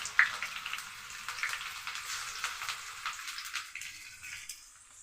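Sliced onions and green chillies sizzle and fry in hot oil for brinjal dal, a steady crackling hiss with a few sharp pops and occasional stirring scrapes, close and fairly quiet.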